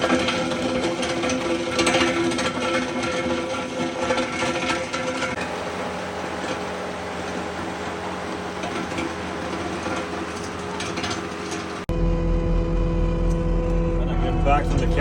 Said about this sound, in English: It really chews up that crown nicely.